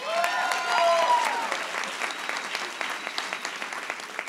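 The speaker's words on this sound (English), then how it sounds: "Yes, round of applause." Audience applause breaks out as the next speaker, a university president, is introduced at a live idea-sharing event; full clapping at first, then thinning into scattered claps over several seconds.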